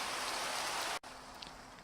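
Steady hiss of rain in Minecraft, a dense even wash of noise that cuts off abruptly partway through, leaving a quieter background.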